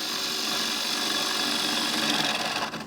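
A woodturning tool cuts curly shavings from a spinning piece of wood on a lathe, giving a steady, close, loud scraping hiss that runs unbroken and trails off at the end.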